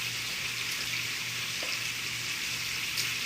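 Sausage sizzling in melted butter in a pan, a steady close crackle of frying that runs the whole time with no voices.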